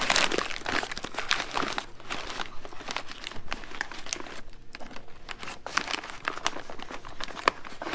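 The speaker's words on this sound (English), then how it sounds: "Daniel is weighing, and then he's gonna close up the bags." Ten-pound bags of potatoes being closed up, with continuous crinkling and rustling of bag material, close and fairly loud, with no talking.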